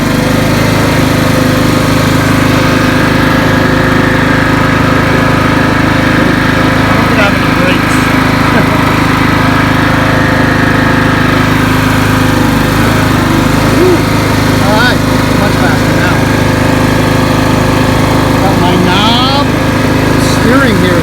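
A Craftsman lawn tractor fitted with a new Kohler Courage engine runs continuously at close range, a loud, steady droning hum that stays even the whole time while someone talks over it.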